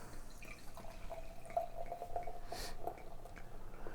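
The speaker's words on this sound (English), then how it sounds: "As it pours, it's a good mix of black and brown." Bruery Freckles bourbon barrel-aged mole stout, 2021 vintage, pouring into a glass: a soft, steady liquid trickle with faint drips and light glass clinks, close and fairly quiet over low room noise.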